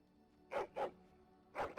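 Three sharp barks from Barkspawn, the Mabari war dog in Dragon Age: Origins, a quick pair followed by a single bark after a short pause, each clear and forceful against a quiet background.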